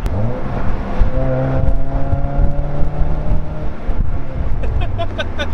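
A 2008 Pontiac Solstice SCCA Champion Edition roadster with 170 horsepower growls steadily at a low, even pitch, loud and close, with a constant rumble and wind noise and no break throughout.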